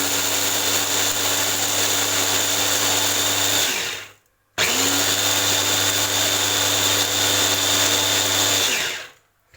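An electric grinder mills ingredients into fine flour in two loud, steady whirring runs of about four seconds each, separated by a brief stop, with the motor winding down at the end of each run.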